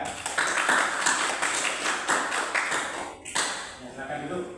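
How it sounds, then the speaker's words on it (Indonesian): Students in a coding and artificial intelligence lesson clap for a group after its presentation, a lively, close classroom patter of many hands with a brief dip before resuming. "tepuk tangan untuk kelompok 3"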